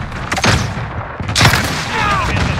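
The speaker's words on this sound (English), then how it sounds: "Throwing grenade!" Grenade explosion in Call of Duty: Modern Warfare, two sharp loud blasts about a second apart over a rumbling battle backdrop with a whistling streak afterward, close and intense.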